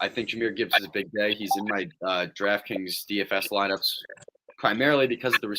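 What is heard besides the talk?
No distinct noise like a dog, phone or traffic.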